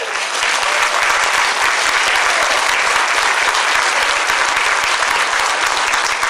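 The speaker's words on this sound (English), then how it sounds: "So I'd just like to give these 5 ladies a round of applause." Dense, sustained applause from a large audience at an awards dinner and graduation fills the room, loud and even throughout with no pause.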